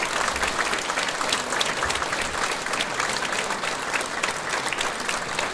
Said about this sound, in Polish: Wielkie brawa raz jeszcze,